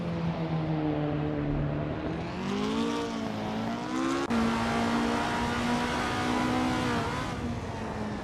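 In a racing video game, cars including a 1968 Porsche 912R run a race, with a steady loud engine drone that rises and falls in pitch through gear changes, close and continuous.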